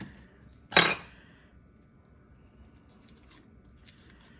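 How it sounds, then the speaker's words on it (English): A kitchen knife cuts once through a shallot, giving a single close, crisp crunch on the board, followed by quiet room noise and faint light clinks. "let's slice up our shallot"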